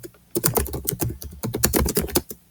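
Rapid, steady typing on a computer keyboard, with dense clusters of close key clicks in an uneven rhythm and a brief pause partway through.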